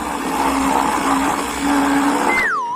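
A blender whirs loudly and steadily as it mixes ingredients with garlic and smelly cheese, its motor droning for over two seconds before cutting off with a falling whine.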